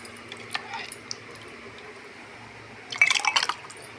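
Watermelon juice with mint is poured into a glass. A few faint drips come first, then a short, close splashing pour near the end.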